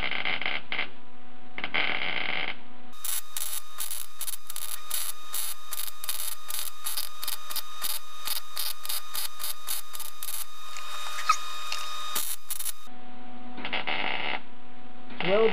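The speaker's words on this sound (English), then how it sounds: "Well, it's a little rusty, but it's welding," Rapid, evenly spaced crackling bursts of MIG-style welding on rusty sheet-metal rear passenger floor panels of a 1976 Mazda RX-5 Cosmo, loud and close, with a steady hum before and after the bead.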